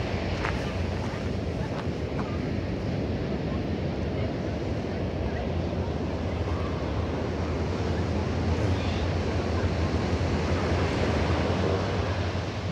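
Strong wind and high, rough surf pound a beach near Jeongdongjin Station on an overcast, rainy day, a loud, unbroken roar with wind rumbling against the microphone.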